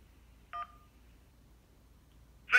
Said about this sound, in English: Please press 1 now to pledge your support for President Trump.